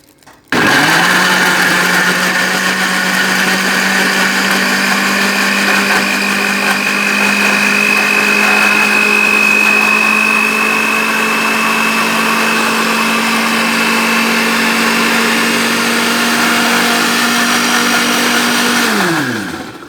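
A blender whirs steadily for nearly twenty seconds, blending peaches with water for juice. The motor hum stays loud and close throughout, then winds down sharply at the end, with no talking.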